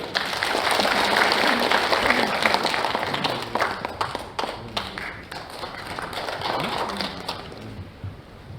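An audience applauds at a founding convention for a national bereaved families' association, with dense, sustained clapping that gradually thins and fades toward the end, no speech over it.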